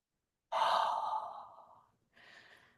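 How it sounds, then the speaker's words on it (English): Breath blown into cupped palms during a quiet contemplative practice, one long soft exhale followed by a shorter, fainter second puff, close and alone with no background. "Blow a breath into your palms."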